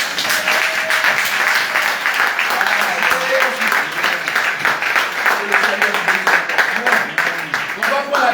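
A church congregation claps and cheers during a praise and worship service: dense, sustained applause filling the room, with voices calling out over it.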